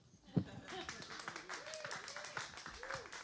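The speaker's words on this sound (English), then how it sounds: "keep that single clap going." A lone audience member at a comedy show claps once loudly, followed by scattered faint claps as a performer speaks steadily over the room.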